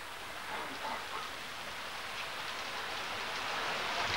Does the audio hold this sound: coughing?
no